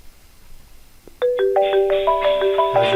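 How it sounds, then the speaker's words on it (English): A phone line rings in a business phone system's tech support queue: a quiet hiss, then a loud electronic ringtone of repeating tonal beeps that starts abruptly and continues steadily. "the phone is ringing now for tech support"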